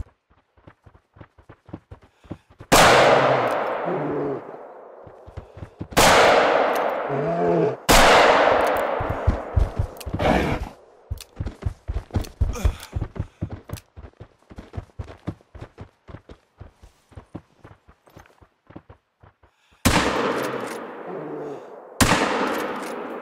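Several loud, sharp pistol shots fired at a brown bear in the hunting game theHunter: Call of the Wild, on the Dikiy Coast map, each crack trailing off in a decaying ring. Quieter clicks and taps sit between the shots.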